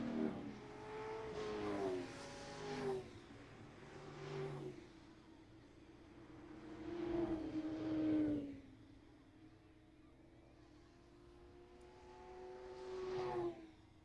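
A NASCAR late model race car at Mesa Marin Raceway, spun out with heavy right-front damage, as its engine revs in repeated rising and falling swells over a steady rumble, fairly close.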